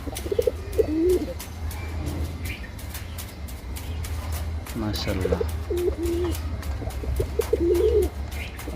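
A pigeon coos in soft, repeated phrases close by while eating, with a voice speaking briefly over steady background hum and scattered clicks.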